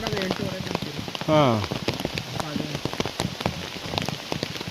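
Steady rain falls around someone walking a trail to Yana, with a voice speaking over the patter and a brief vocal exclamation partway through.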